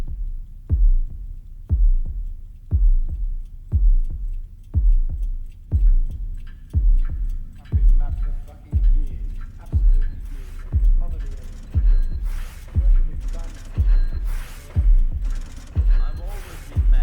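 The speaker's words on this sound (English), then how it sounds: "It's interesting how we're starting with the heartbeat." A slow, steady heartbeat thumps in a regular double pulse near and loud at the opening of Pink Floyd's Dark Side of the Moon album, with faint swelling sounds building underneath.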